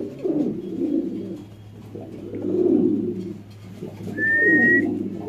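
White Bombay pigeons at a pigeon seller's coop make soft, repeated cooing calls in three low rolling bursts, fairly close, with a brief high whistle-like tone near the end and no talk.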